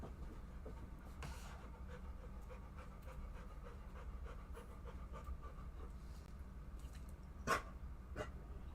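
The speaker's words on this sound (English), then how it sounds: "Hey, where's my dog?" A dog pants steadily and close by throughout, a continuous rhythmic breathing over low background hum, with one louder sharp sound near the end.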